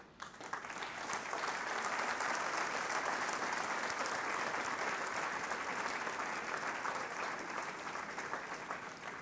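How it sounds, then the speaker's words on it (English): Sustained audience applause for a group of Googlers at a Google India app showcase event, a dense steady roar of many hands clapping at moderate distance for about nine seconds, with no talk over it. "Please give them a huge round of applause."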